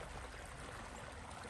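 Spring water welling up out of the ground at Sulphur Springs, Chickasaw National Recreation Area, a steady, full rushing and trickling flow close by, constant with no breaks and no voices.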